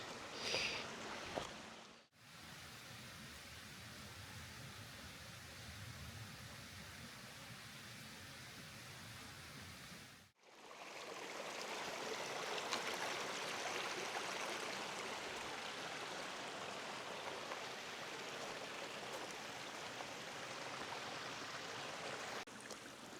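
A stream in the Ain region of France, running past cliffs full of fossils, gives a steady rushing and gurgling of water. The sound carries on unbroken except for two brief cuts early on.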